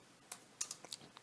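Typing a command on a computer keyboard while configuring a Raspberry Pi: a handful of quick, close key clicks in an irregular rhythm, quiet and alone with no talk.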